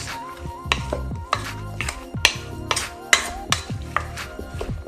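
A spoon stirs pico de gallo seasoned with black pepper in a bowl, giving a string of close, uneven clinks and scrapes against the dish, about two per second.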